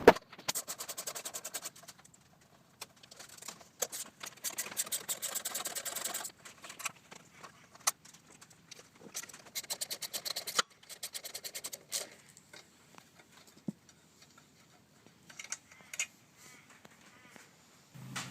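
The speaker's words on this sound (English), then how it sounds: "we'll just remove the bolts to take off this cover" Bolts come off the starter cover of a Briggs 3.5HP push mower in quiet, intermittent bursts of ratcheting and scraping metal, with short pauses between turns and soft clicks.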